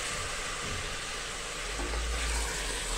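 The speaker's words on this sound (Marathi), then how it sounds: "मटण पण आपल्याला आता परतवून घ्यायचं आहे।" Mutton sautéing in hot oil in a pan gives a steady, dense sizzle that runs unbroken and close for the whole stretch, with a low rumble beneath and no voices.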